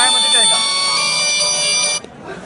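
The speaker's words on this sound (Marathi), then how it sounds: "आता या मोबाईलवरती थोड्या वेळात फोन येणार." A mobile phone on a remote, SIM-card-based field irrigation pump controller rings with an incoming call reporting a phase fault; the ringtone is loud, steady and tonal for about two seconds, then cuts off.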